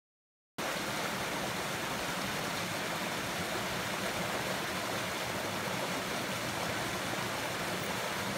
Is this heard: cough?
no